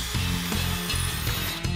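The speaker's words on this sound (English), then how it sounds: "I've got a 3/16 inch bit in my drill, and I'm going to drill it right there where X marks the spot" A power drill fitted with a 3/16 inch bit bores a marked spot for a recessed lighting install, giving a steady whirring, grinding drone with a few short pulses and brief stalls, close and fairly loud with no talking.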